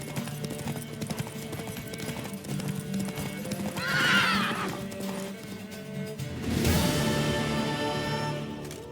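Mare in The Witcher 3 whinnies twice amid steady clip-clopping hooves, the calls loud and close over a busy game soundscape with a low musical hum beneath.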